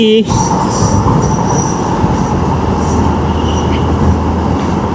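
An elevated MRT metro train rumbles past loudly and continuously, wheels clattering with a high squealing tone above the roar.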